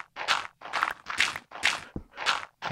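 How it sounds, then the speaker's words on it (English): Footsteps in the Minecraft video game thud in a steady rhythm, six crunchy, evenly spaced steps close by with short gaps between them. "I hear footsteps."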